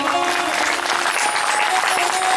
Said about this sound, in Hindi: नारायण जी के लिए एक बार जोरदार ताली बजाओ।